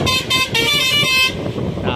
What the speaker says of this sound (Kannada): Horn crazy.